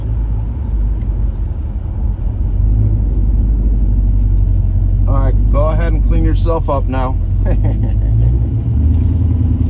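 A 1957 Chevrolet Nomad engine rumbles steadily and loud throughout, with a person speaking briefly over the running motor.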